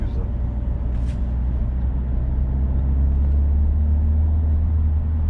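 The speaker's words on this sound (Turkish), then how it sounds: "Rüzgar sesi çok az. Sadece biraz lastik gürültüsü önde geliyor." Steady low road rumble and tire hum inside a moving Citroen C4 1.6 at about 70, with only light wind noise, constant throughout.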